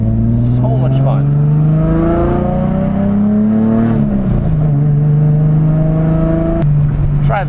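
A BMW E30 with a 2.5 engine stroked to 2.7 pulls hard while being driven, its engine note climbing through rising revs, dipping at a gear change, then climbing again, loud and close from inside the car.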